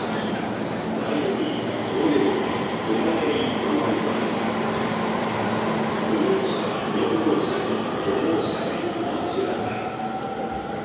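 A train rumbles at a station in Japan, a steady, broad mechanical drone with faint squeals and announcements drifting above it, while people's voices murmur in the background.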